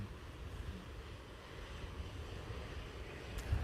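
Wind gusts at the coast near Starbase in Boca Chica, Texas, a continuous low rumble buffeting the microphone with a faint surf-like wash behind it and no voices.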